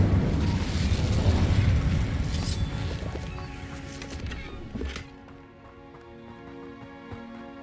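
An Incendio fire-spell blast in Hogwarts Legacy: a loud whooshing burst of flame with crackling that tails off after a few seconds into quieter, tonal background music.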